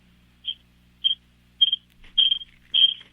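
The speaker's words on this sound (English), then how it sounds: "must be having a fire alarm going off in his house" Smoke or fire alarm sounding inside a house, a series of five shrill high-pitched electronic chirps, spaced unevenly and getting longer toward the end, heard alone over a faint low hum.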